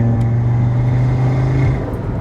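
A tuned Audi RS3 over 420 kW, engine running with a steady loud exhaust drone and a slight blip in the tone near the end, close up with no talking.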